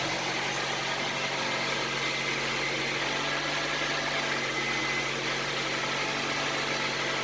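A Honda CR-V fitted with a new suspension and lift kit idles with a steady, even engine hum and light vibration, with no talking.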